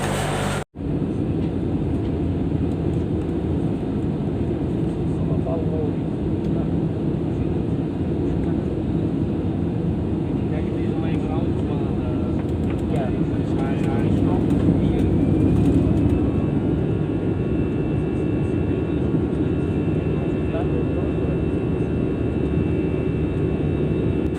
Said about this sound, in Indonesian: ini dimana pesawat itu sudah turun rendah kemudian naik lagi